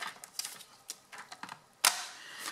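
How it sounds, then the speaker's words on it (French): A paper trimmer slices through paper pieces for a tiny mini-album, giving a string of short, dry scraping clicks followed by one louder, sharper cut near the end, close and with no talk. "je vais garder 3 cm et demi et je coupe mes deux morceaux"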